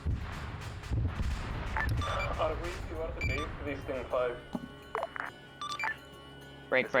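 Gunfire in a military video game with RHS mod sounds: scattered shots and bursts crackle at a distance, mixed with sharp nearby reports, while people talk over most of it.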